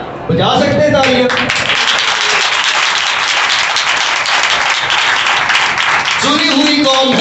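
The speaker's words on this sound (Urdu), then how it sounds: "بجا سکتے ہیں تالیاں؟" A church congregation at a sermon bursts into loud, sustained applause, dense clapping that continues steadily, with someone speaking briefly before and after it.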